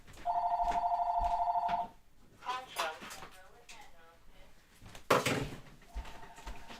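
An electronic telephone ring sounds in a craft room for about two seconds, followed by a person talking and some clattering, then another ring begins faintly near the end.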